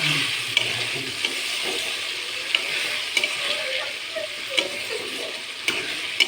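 Tomato puree being sautéed and stirred in a pan at home, giving a continuous close sizzle with light, scattered ticks and scrapes from the spoon.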